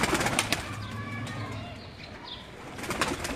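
Pigeons coo softly in a rooftop loft near Rawalpindi, with low repeated murmuring under scattered flutters and light clicks from the birds, close and fairly steady throughout.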